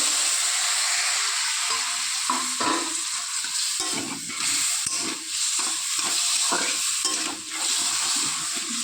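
Spice masala fries in hot oil with a splash of water added, for a village-style Bengali fish curry, giving a continuous loud hissing sizzle up close with brief stirring scrapes.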